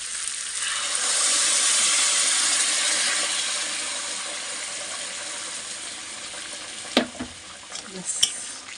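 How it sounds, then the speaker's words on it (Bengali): Hot water poured into a pan of frying paneer and potato curry sets off a surging hiss and bubbling that swells, then slowly fades, ending with a few sharp clinks. "এবার আমি একটু গরম জল দিয়ে দিচ্ছি"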